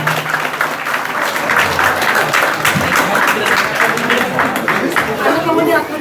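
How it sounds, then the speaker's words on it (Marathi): Loud, sustained applause from a school audience at an Independence Day ceremony as a student comes up to receive a prize, with steady clapping and crowd chatter mixed in throughout. "आपण जोरदार टाळ्या वाजवूया."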